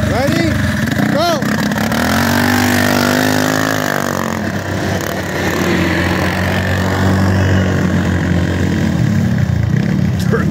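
Small mini bike engines drag racing on ice, loud close revving and whining as they accelerate, with a second engine droning alongside and voices talking over the noise.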